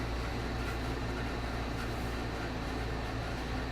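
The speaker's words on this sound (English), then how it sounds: "If anyone hears anything in the background, it's my air conditioner." Steady broadband hum of an air conditioner running indoors, constant and unbroken throughout with a low droning base and even hiss, no voices.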